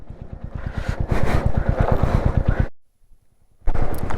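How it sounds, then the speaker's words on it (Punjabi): Cold wind buffets the microphone in Sangla Valley near Chitkul, loud and rough for a few seconds before cutting out, then gusting back in. "ਠੰਡੀ ਹਵਾ ਆ ਰਹੀ ਹੈ ਨਾ ਇੱਥੋਂ"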